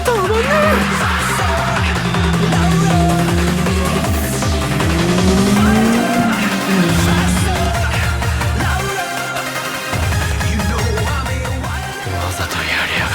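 A race car engine is revved hard to the red line during a mountain road race, a loud continuous roar rising and falling with gear changes under dense Eurobeat-style music, with brief tire squeal.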